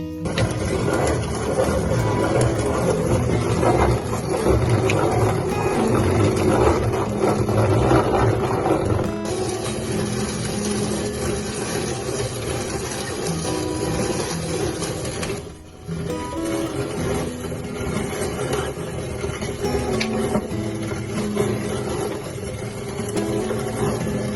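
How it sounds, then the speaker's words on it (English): Hand-cranked wheat grinder milling wheat into flour, a continuous gritty rasping churn at steady volume that carries on without a break and briefly dips near the end. "see how long it takes to grind enough flour for a loaf of bread"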